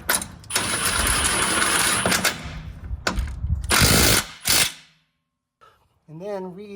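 A ratchet with a 19mm socket tightens a bracket bolt into the cross member of a Jeep Wrangler JL during a lift kit install, giving loud close clicking bursts separated by short pauses, followed briefly by a voice.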